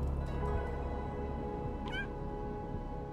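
A cat meows once, short and rising, in the video game Stray, set in an industrial zone, heard over a steady low ambient drone and faint mechanical hum.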